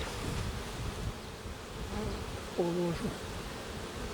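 Honeybees swarm over a queen cage on a frame in a Ukrainian-Alpine hive during queen replacement, giving a dense, steady, close buzz that swells slightly partway through.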